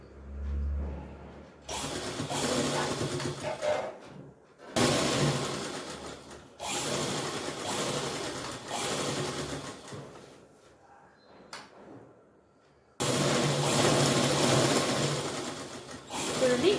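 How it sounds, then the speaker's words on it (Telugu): A sewing machine stitches a child's frock cut from household cloth, running in several loud whirring bursts separated by short pauses, with faint clicks between runs. "ఇక్కడ నుంచి స్టిచ్ వేసేసుకుంటున్నాను"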